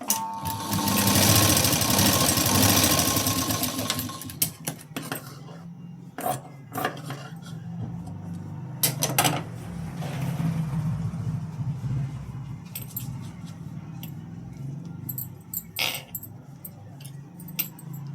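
A sewing machine runs a stitch line beside an earlier seam on a katori blouse: one long steady run at the start, then short stop-start bursts of stitching, close and fairly loud.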